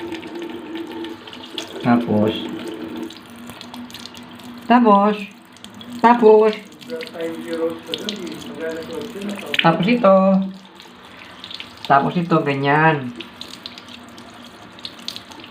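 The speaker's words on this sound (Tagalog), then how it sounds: "Nagwawash ako ng mukha ko." Water runs from a tap into a sink while someone washes their face, a steady trickle with splashes in bursts. A person talks throughout.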